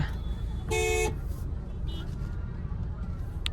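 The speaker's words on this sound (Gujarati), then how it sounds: "ટ્રાફિક ખૂબ જ છે" Busy road traffic on the way to a crowded temple, with a loud, sharp car horn blast lasting about a second over a steady low rumble of engines.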